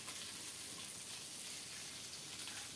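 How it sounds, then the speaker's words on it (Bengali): Fish fry in oil in a pan, giving a soft, even, continuous sizzle with no talk over it. "এই পিঠটাও এরকম করে ভেজে নেব।"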